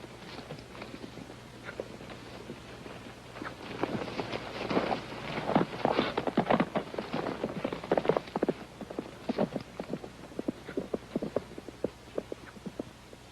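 Horse hooves clip-clop as a rider departs, a rapid series of soft hoof beats that build and then gradually thin out, heard at a moderate distance in an old western film.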